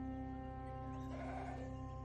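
Goat folk creatures bleating in the roguelike game Caves of Qud, a short nasal bleat rising over a steady droning game soundtrack, moderately loud and with no talking.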